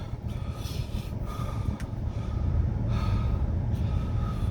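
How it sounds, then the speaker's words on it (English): Heavy, rasping breaths after eating extremely spicy hot sauce, a run of loud gasps and snorting exhales close to the mic over steady background noise, with no talk. "Breathing pretty hard"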